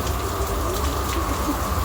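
Heavy rain pouring down steadily in a continuous dense hiss, close and even throughout with no voices.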